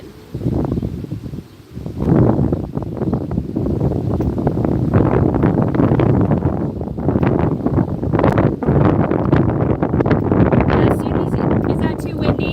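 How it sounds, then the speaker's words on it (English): Steady wind buffets an outdoor microphone, a continuous rumbling roar that stays loud for most of the stretch while someone speaks over it. "Is that too windy? It's not too windy."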